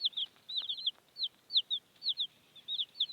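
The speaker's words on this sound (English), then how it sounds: "He needs to come and put up these chickens." Chicks peeping from a basket, with rapid high chirps in short bursts that repeat over nearly silent background.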